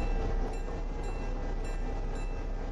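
A video-game train rolls along with a steady, dense rumble and faint clatter, continuous and fairly quiet throughout, with no one speaking.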